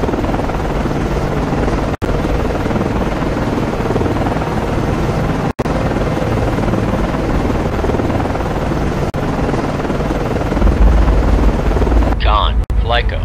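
An SH-60 helicopter in the naval game Cold Waters returns to its ship at night: a loud, steady rotor and engine roar fills the clip, cutting briefly twice, with a short radio voice near the end.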